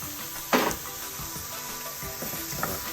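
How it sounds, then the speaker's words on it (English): Chayote sautés in a pan with cumin and sazon with cilantro and achiote, giving a soft, steady sizzle with a few spoon-against-pan clinks and stirring scrapes up close. "I've been sauteing this chayote in here a couple minutes now"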